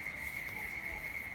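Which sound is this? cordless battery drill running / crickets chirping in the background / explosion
crickets chirping in the background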